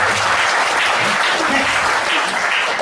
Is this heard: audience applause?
yes